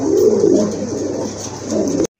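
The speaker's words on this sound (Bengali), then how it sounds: "মাশাআল্লাহ, অনেক সুন্দর কবুতর।" Fancy pigeons for sale cooing close by in soft, low repeated coos, with a faint steady background hiss and no talking.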